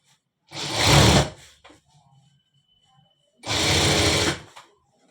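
Sewing machine stitching two halves of a full-sleeve shirt together, with two close, loud bursts of rapid whirring stitches separated by a quiet pause filled with faint handling sounds.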